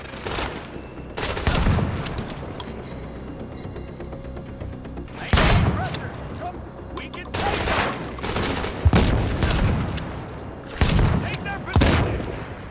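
Gunfire and grenade launches in The Division at the Queens Tunnel Camp, with bursts of heavy automatic fire and booming shots. Several loud volleys come in clusters, separated by quieter stretches of lighter rattling fire.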